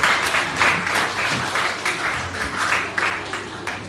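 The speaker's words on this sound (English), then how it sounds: "Keep clapping until she gets to her seat." An audience applauds steadily at a primary school graduation ceremony, a dense, sustained round of clapping from a sizeable crowd filling the whole stretch without pause.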